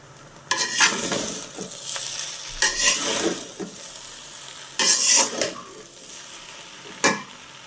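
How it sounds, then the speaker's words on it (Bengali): Cooked rice is stirred in a hot pan for fried rice, with several bursts of scraping and tossing over a steady sizzle and no talking. "তো যে চালটা আমি রান্না করে রেখেছিলাম সেটা এখানে ঢেলে দেব। কিছুক্ষণ নাড়াচাড়া করে নেব।"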